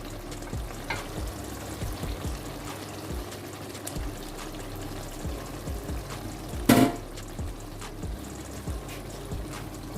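Beaten eggs are stirred into a sizzling egg mattar masala in a pan over low heat, with a steady frying crackle, repeated scraping stirs and one sharp louder clank near the end.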